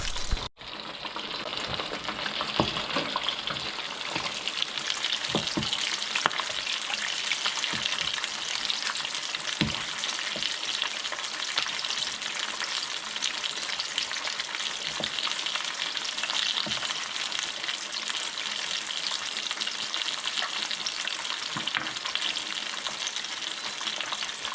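Crispy pata, a whole pork leg, deep frying in hot oil with a steady, dense sizzle that runs throughout, broken by occasional sharp pops and splatters, close and loud with no talking.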